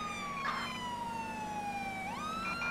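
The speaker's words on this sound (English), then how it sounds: "Switch up the siren." A police car siren in GTA V with LSPDFR, a loud steady wail that slowly falls in pitch and then jumps up as the tone changes, sounding continuously and close.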